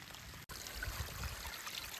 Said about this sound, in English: it's making noises that suggest there's some little flow and waterfalls here and there